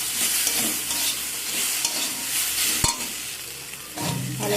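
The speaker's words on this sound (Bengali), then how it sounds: "দিয়ে পোস্তর সাথে সব কিছুকে ভালো করে নাড়াচাড়া করে নেব।" Drumstick flowers and poppy seed paste are stirred and fried in a pan. There is a steady, close sizzle under repeated scraping stirs and occasional clinks.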